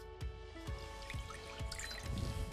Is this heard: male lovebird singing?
no